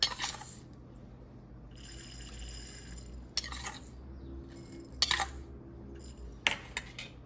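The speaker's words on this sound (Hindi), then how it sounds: "थोड़ी थोड़ी चीनी डालो दोनों में" A spoon clinks against glass jars of chillies several times as sugar is added, with short sharp taps separated by quiet gaps over a faint background hum.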